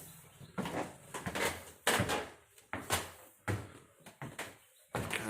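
An old wooden staircase creaks and thumps with each step, a run of irregular footfalls and squeaks close by, rising and falling in bursts.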